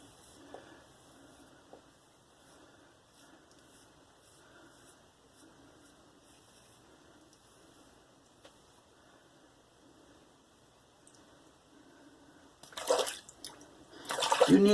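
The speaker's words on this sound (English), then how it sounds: "You need to rinse it out frequently." An Alpha Ecliptic slant safety razor rinsed under running tap water, a faint quiet stretch giving way to a loud, close gush of flowing, splashing water near the end.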